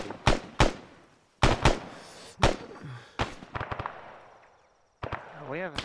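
Sharp gunshots in ARMA 3, several loud single reports and short bursts spaced across a few seconds, with a rapid automatic burst near the middle, followed by a voice talking.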